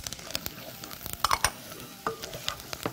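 Thyme and garlic fry in oil in a pan, a steady close sizzle broken by scraping stirs and sharp clinks, with no talking.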